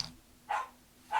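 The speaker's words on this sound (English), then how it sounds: "Sorry about the dog barking." A dog barks twice in the background, two short, evenly spaced barks at moderate distance while a tabletop board game is being played, with no talk over them.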